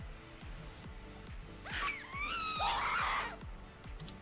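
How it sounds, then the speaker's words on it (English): A shrill, wavering scream rises and falls for about two seconds as the Banshee's Screech ability in a Minecraft Naruto mod, sounding over a steady rhythmic thumping game soundtrack. "Banshee's Screech."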